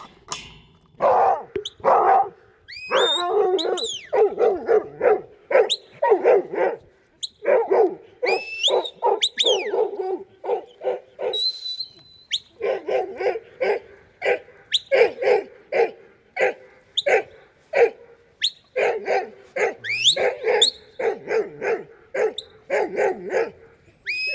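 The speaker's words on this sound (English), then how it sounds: "Her bark is a lot more confident, that of a true working dog" A working sheepdog barks while herding a mob of sheep in a training pen, giving repeated sharp, confident barks in quick bursts with short yips, loud and close throughout.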